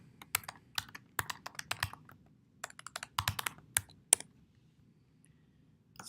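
Typing on a computer keyboard in quiet bursts of crisp key clicks, several quick runs separated by short pauses, close and clear with no talking.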